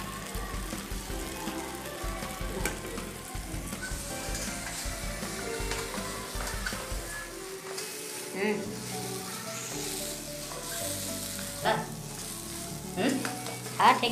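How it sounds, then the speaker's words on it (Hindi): Boiled potato and cauliflower being stirred into a hot pan, giving a steady sizzle and frying hiss with scraping stir strokes, moderately close, with no talk over it. "उबला हुआ आलू और गोभी जो हम फ्रेश करके रखे हैं इसको अभी उसमें मिला देंगे।"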